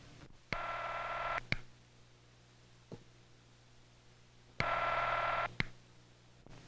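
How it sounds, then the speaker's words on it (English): Telephone ringing tone heard by the caller: two steady buzzing bursts of about one second each, separated by a long pause, with clicks on a quiet line. "it means that the other telephone is ringing"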